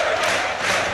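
Football crowd at a York City versus Oldham Athletic National League play-off semi-final, singing a chant for a player; a dense, steady wall of massed voices from a packed stand, loud and continuous with no commentary over it.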